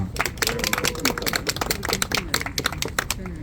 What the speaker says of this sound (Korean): 여러분 다 같이 박수로 환영해 주시 바랍니다